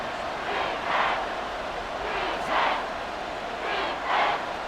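Stadium crowd in the video game Madden 24, Philadelphia Eagles at Washington Commanders, a distant sustained roar that swells in three rhythmic surges, chant-like, with no clear talk.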